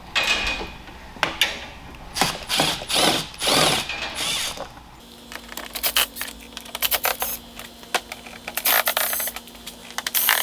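A hand ratchet backs out T15 Torx screws from the front lip area of a C8 Corvette, with bursts of rapid clicking in the first half, then quicker, tighter clicks alongside a faint steady hum.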